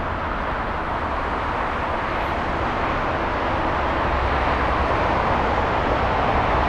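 An Aeromexico Boeing 787 Dreamliner at LAX produces a loud, steady broadband jet roar that holds constant for several seconds, close and unbroken.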